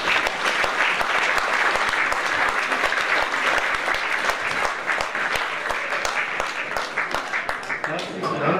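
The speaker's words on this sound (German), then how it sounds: "Herzlichen Dank für den Beifall." Sustained, loud applause from an audience at a formal anniversary ceremony in a village celebrating its 900th year, steady dense clapping filling the whole stretch without pause.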